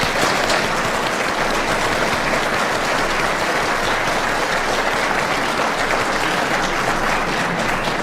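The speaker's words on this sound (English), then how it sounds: "You can give yourselves a round of applause." Audience at the Narok County gubernatorial debate applauding, a dense, steady roar of many hands clapping that fills the room without pause and with no talk over it.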